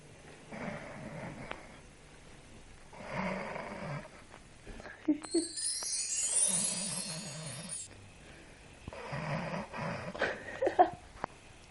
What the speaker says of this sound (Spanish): El gordo está roncando como la concha de la luna.